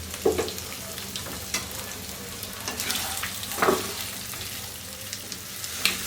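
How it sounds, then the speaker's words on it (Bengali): Steamed eggs browning lightly in mustard oil hiss with a continuous, moderate sizzle, broken by several sharp clinks and scrapes of a spatula turning them, with no talking. "ডিমের 2 পিঠই আমি একটু এরকম হালকা বাদামি করে ভেজে আমি চুলাটা বন্ধ করে দিই"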